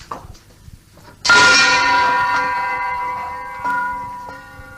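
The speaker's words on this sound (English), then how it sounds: "Ring the gong." A trained dog strikes a gong once, giving a loud, sudden clang that rings on with a long, slowly fading shimmer, followed by a lighter second tap that sustains the tone.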